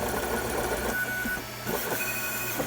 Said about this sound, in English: you'll see it's actually printing the threads of the nut